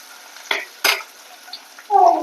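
Onions are stir-fried in a pan, with a few sharp scraping strokes of a spatula against the pan's surface. A brief sizzle rises near the end, and the pauses between strokes are quiet.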